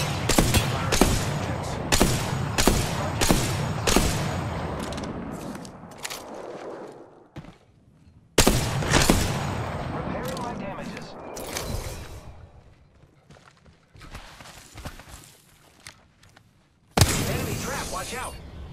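Bursts of rapid gunfire in Apex Legends, loud clusters of shots in quick succession that break off into pauses and return with another sharp volley, with game voice lines heard between the bursts.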